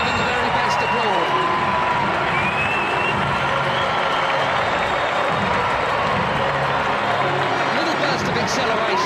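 A stadium crowd at a Portugal versus Nigeria World Cup football match applauds and cheers. The sound is a dense, steady roar of clapping and voices that lasts the whole clip, with no pauses.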